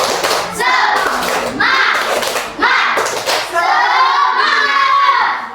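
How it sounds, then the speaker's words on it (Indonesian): A primary school class claps a rhythmic spirit-clapping ice-breaker, sharp patterned bursts of many hands broken by short pauses, with children's voices chanting along between the claps. "sekarang supaya lebih semangat lagi kita ice breaking tepuk semangat"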